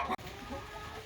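A broody hen sitting on hatching eggs makes a low, continuous clucking murmur close by. The sound stays steady for about a second after a brief sharper sound at the start.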